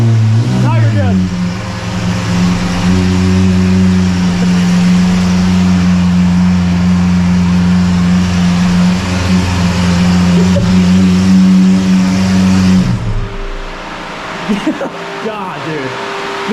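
A Lamborghini Aventador SVJ fitted with a Gintani F1 exhaust and flame tune revs loudly and close by. It holds a long, steady, droning high rev for about twelve seconds, then cuts off sharply, with voices faint in the background.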